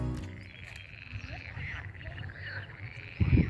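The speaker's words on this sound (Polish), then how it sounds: "Jak dla mnie to żaby." Frogs croaking outdoors in a park, a steady chorus of rasping calls that carries on throughout, with a louder close rustle or bump near the end.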